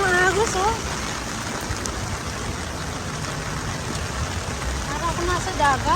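Floodwater rushes in a strong current through a flooded area in Japan, a loud, steady broadband roar lasting throughout, with a voice speaking briefly at the start and again near the end.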